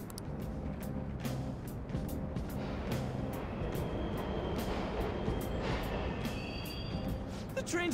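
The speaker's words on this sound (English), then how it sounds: "The trains are totally running!" Subway trains running in a video game, a continuous low rumble and rattle of rail cars with faint screeching tones, fairly quiet and steady throughout, with a brief voice over it.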